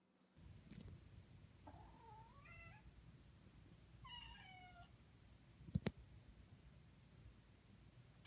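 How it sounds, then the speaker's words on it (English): Two cats, one a sibling's, meow in a short series of clear rising and falling calls at moderate distance, with a couple of sharp knocks near the end and no talk. "Have this video of my cat and my sibling's cat."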